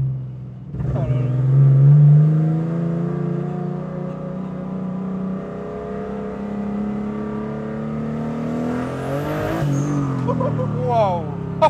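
A turbocharged BMW E36 engine rumbles and revs loudly from inside the car on a mountain drive, its pitch swelling and falling steadily while people talk over it throughout.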